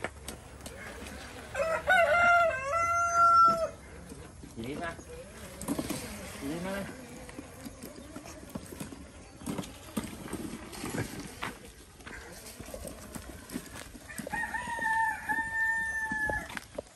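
Free-ranging farm chickens around rice fields: a rooster crows loudly twice, early and again near the end, amid clucks, hoof-like clopping and someone talking in between.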